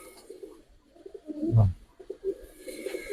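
Giribaz pigeons coo softly at close range in a seller's loft, a few low murmuring coos with one fuller, louder coo in the middle.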